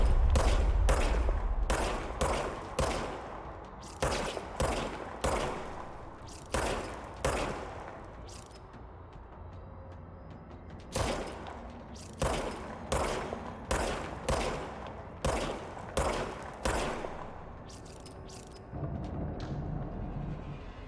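A service weapon in Control fires a long series of sharp, close gunshots in quick rhythmic volleys, pausing briefly between bursts, with a mechanical hum underneath.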